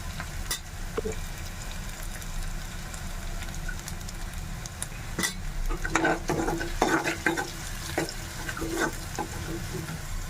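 Onion sautéing with ginger-garlic paste in a pan for capsicum curry gives a steady close sizzle, with scraping stir strokes and utensil clinks growing busier in the second half; no one speaks.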